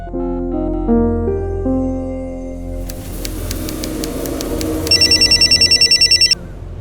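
A telephone rings in a Hindi crime drama episode of Savdhaan India, a rapid electronic bell trilling in one loud burst near the end after a few soft musical tones.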